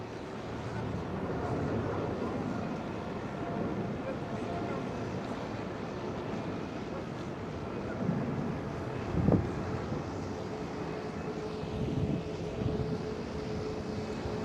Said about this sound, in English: Emirates 777 EK 146 to Dubai.